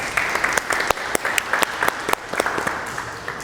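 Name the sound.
audience applause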